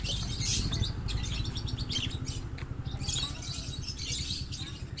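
Lovebirds chirping in an amusement park animal exhibit, a dense chorus of quick, high tweets repeating steadily and fairly close, with a constant busy chatter of many birds throughout.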